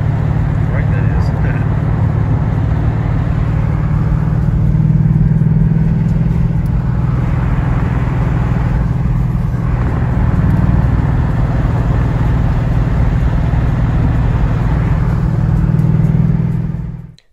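Steady road noise and engine rumble fill the inside of a moving car, a continuous low drone that holds for the whole stretch before cutting off abruptly at the end.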